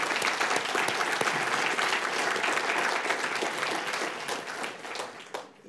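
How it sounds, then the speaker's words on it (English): An audience at a panel discussion applauds for Sue, a dense, steady burst of clapping from many hands that holds loud throughout before tapering slightly at the very end. "So give her a round of applause for that."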